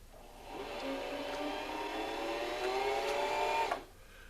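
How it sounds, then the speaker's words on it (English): A Singer 3221 sewing machine winds thread onto its bobbin with a steady, rising mechanical whir that runs for several seconds and then cuts off abruptly, close and alone without talking. "And there, we've spooled the thread onto our bobbin."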